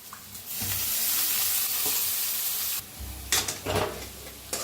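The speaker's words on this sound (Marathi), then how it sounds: "मटकीची डाळ बी जरा भाजून घेऊया तेला" Soaked matki dal roasting in oil while cooking shepu bhaji, an even sizzle that drops off, then a few close scraping stirs against the pan.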